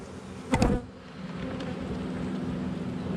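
Honeybees hum steadily around an opened hive frame, a dense close buzz with a brief louder swell as a few bees pass near, then a continuous droning layer.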